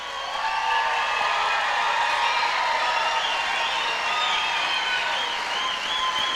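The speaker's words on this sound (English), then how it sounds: "give them a rousing welcome and an applaud." Audience at a Native music awards show breaks into sustained applause with scattered cheers and whoops, a dense, even roar of clapping from the whole room.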